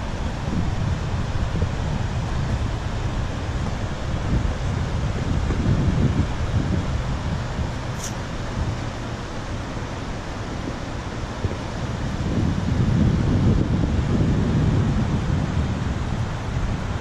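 Steady broadband rush of river water mixed with gusting wind buffeting the microphone, swelling and easing over about seventeen seconds near an old historic dam, with no voices.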